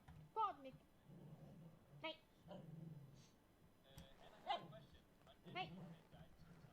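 A dog whines and whimpers in short, high, wavering bursts, wanting a box kept beside a person indoors, the cries recurring several times over low background murmur.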